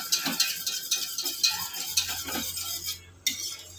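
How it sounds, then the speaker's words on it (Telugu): Water being stirred into beaten curd in a bowl, heard as close, rhythmic swishing and scraping strokes that repeat steadily and pause briefly near the end, with no talk. "పోసి బాగా కలపాలి"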